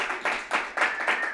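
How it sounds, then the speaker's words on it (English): A small audience claps for David in about five short bursts at an evening music session, the hand claps fairly near, each burst swelling and fading with a brief pause between. "give a round of applause for David"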